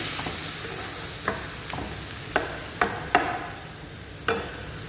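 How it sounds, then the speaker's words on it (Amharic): Minced garlic fries in a pan with a constant sizzle, broken by several sharp scraping stir strokes at irregular intervals, close and without voices. "ነጭ ሽንኩርት የተፈጨ ተቆላላለሁ"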